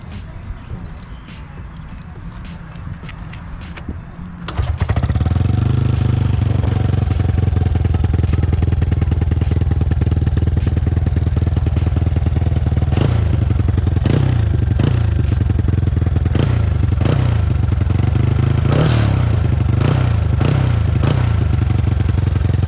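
A Honda Wave 125 motorcycle with a modified exhaust and a stock engine starts up after a few quiet seconds, then runs loud and close. It idles with a throaty, pulsing note and is revved in short bursts, with people talking around it.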